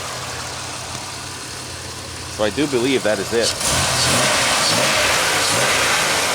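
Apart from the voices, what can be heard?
car engine idling and revving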